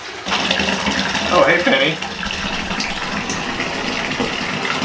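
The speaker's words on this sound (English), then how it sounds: "I'll wait for this water to fill up" Water gushing from a tap into a bathtub being filled for a swimbait test, a steady rushing splash under a short spoken greeting.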